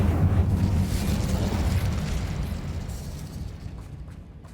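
The Incendio fire spell in Hogwarts Legacy erupts in a single booming burst of flame that starts loud and slowly fades away, with no talking.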